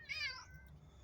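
A cat lets out a single short, faint meow, rising and then falling, against quiet background noise.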